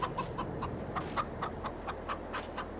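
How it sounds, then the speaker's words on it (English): Chickens cluck in a steady run of short, evenly spaced calls close by on a farm, with no talking over them. "We've got some chickens now."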